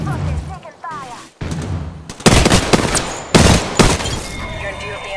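Rapid bursts of gunfire in Apex Legends, loud and close, with heavy volleys and booming impacts stacking in waves, broken by short lulls, while game voice callouts and a player's speech break in between.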